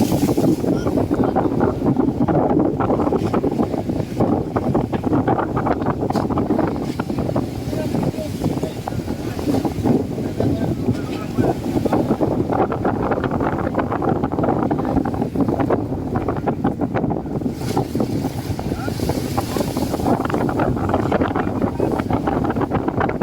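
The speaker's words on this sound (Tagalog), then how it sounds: "Grabe, lakas ng hangin." Strong wind roars steadily against the microphone on the Pacific Ocean coast, a constant heavy rumble with voices speaking underneath it.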